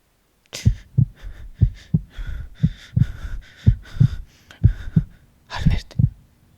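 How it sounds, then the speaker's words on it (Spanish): Heartbeat sound effect in a Spanish audio drama of Poe's The Black Cat: a steady run of deep, close double thumps, about ten beats at an even pace, with no other sound around them. "Los latidos"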